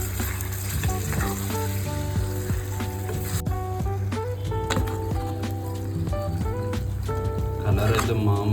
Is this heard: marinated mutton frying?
yes